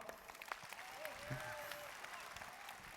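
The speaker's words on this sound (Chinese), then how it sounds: "我们再次以热烈的掌声欢迎小马哥" Applause from the audience at the Geely Galaxy Starshine 7 car launch event, a faint, steady wash of clapping that holds evenly for the whole stretch with no distinct voices.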